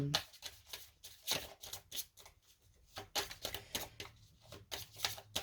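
Tarot cards shuffled by hand in a run of quick, crisp riffling bursts and soft slaps, close and fairly quiet, with no voice over them.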